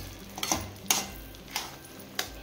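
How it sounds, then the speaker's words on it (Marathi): Mushrooms sautéed in a pan for mushroom tikka masala, a few soft stirring scrapes and light clatters against a faint sizzle, spaced irregularly and fairly quiet, with no talking. "हे बघा, अशा पद्धतीने मशरूम चांगलं परतून घ्यायचं"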